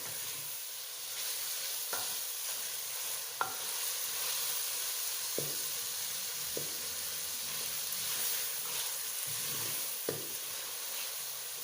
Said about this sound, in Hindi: इसको तकरीबन 3 से 4 मिनट और भून लेते हैं अच्छी तरह, ताकि इसका कच्चापन ख़त्म हो जाए